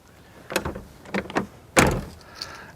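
The rear door of a Jeep Wrangler Turbo Sport is swung and shut, a few rattling clicks followed by one solid thud, close by, with a faint tail afterward.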